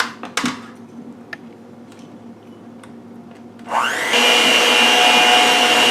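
An electric mixer whirs on low speed through chocolate cake batter, starting partway in and running steadily and loudly to the end after a few light kitchen clinks.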